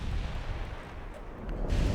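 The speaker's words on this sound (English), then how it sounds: "Yeah, my ships are firing AP." Warship guns in Ultimate Admiral: Dreadnoughts fire armour-piercing shells, a deep rumbling low boom building at the end over a dull, continuous battle drone.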